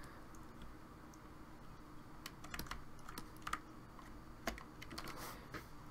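Quiet, steady clicking of keys on a computer keyboard during a sculpting session, irregular taps and a few louder strokes at close range, with no talk.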